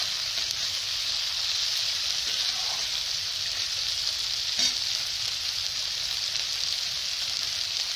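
Green chillies fry in a hot pan for a Bengali dish of shrimp with water spinach, a steady close, loud sizzle that continues evenly throughout with a brief stir midway.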